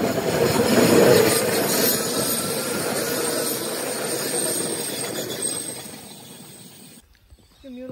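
A train rumbles and clatters as it pulls in, wheels squealing faintly, loud at first and easing off before cutting out near the end.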